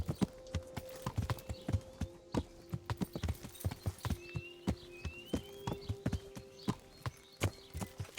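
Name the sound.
horse hooves clip-clop in a video game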